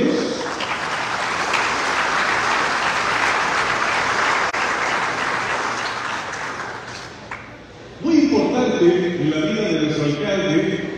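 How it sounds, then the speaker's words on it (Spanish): A crowd applauds steadily for several seconds at a Mexican municipal government report event, then the clapping fades as a voice begins speaking in Spanish over a sound system. "Un aplauso para ellos y ellos."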